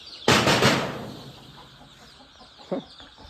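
A close, loud squawking burst from a country chicken that trails off, followed by a short cluck a couple of seconds later amid a noisy background.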